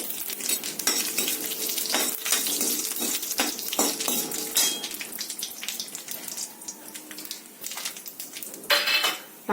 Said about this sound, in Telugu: కరెక్ట్గా 4 ఎండుమిరపకాయలు మాత్రం వేసాను